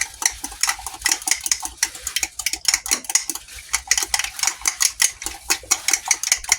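A fork whisks a water-and-flour gravy slurry against a pan in a home kitchen, giving fast, steady metallic clinks and scrapes close up, with no talking.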